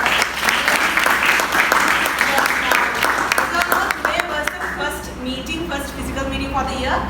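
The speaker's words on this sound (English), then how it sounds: "can I have a big round of applause for Toastmaster Dighayu?" A room full of people applauding at a Toastmasters meeting for Toastmaster Dighayu, dense steady clapping that slowly thins out as voices begin talking over it.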